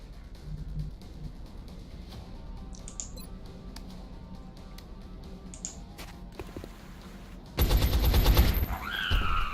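Sniper rifle fire in the turn-based video game XCOM: Enemy Unknown: soft in-game ambience with faint blips gives way to a loud, dense burst of gunfire near the end, followed by a rising electronic whine.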